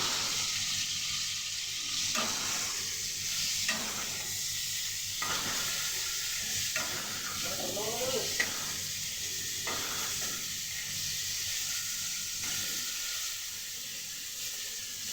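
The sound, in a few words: chicken pieces frying lightly in a pan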